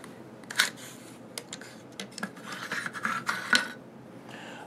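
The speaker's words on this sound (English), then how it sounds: "now I'm going to go ahead and pull the bolt and the charging handle" Bolt and charging handle drawn out of a .50 Beowulf rifle, close metallic clicks, sliding scrapes and rattles in a quick irregular sequence, fairly quiet.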